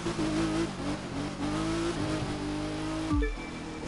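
A touring car revving and sliding across ice in The Crew 2, its engine note rising and wavering steadily before a sharp drop and skid near the end, loud and close with no talking.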